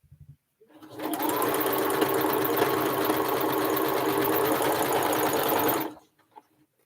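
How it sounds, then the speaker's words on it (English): A sewing machine stitches quilt block webbing together for a Northumberland star block, running in one steady, continuous whir for about five seconds after a few brief clicks, then stopping abruptly, close and alone without talk. "I get to sew the webbing all together"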